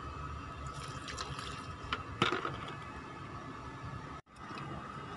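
Water streams steadily from a watering can onto a newly planted golden pothos, a close continuous splash and pour that cuts off abruptly near the end, then resumes.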